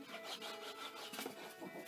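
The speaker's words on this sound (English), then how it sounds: "And then burnish." A wooden piece from a classic mantle clock kit is being burnished, giving a quiet, rapid back-and-forth rubbing with a few brisker strokes and no talk.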